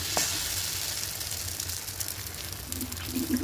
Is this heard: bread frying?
yes